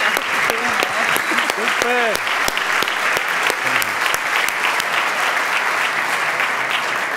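Workshop attendees at a sales breakout session give sustained loud applause for a participant, with individual sharp claps punctuating the crowd, while a man briefly calls out over it.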